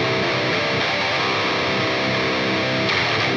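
A distorted metal bass tone played through a Line 6 HX Stomp rings out as a loud, dense, saturated sustained chord with a gritty fuzz edge, alone and without any voice over it.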